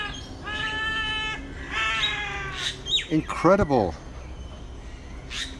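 Harsh, whiny bird calls with a mewing quality ring out several times, close by, followed by a burst of rapid squawks; a person speaks briefly.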